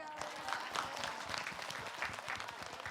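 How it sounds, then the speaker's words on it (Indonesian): Studio audience on a televised Islamic talk show clapping, a steady, moderately loud burst of applause across the whole stretch with no one talking over it. "Tepuk tangan dulu."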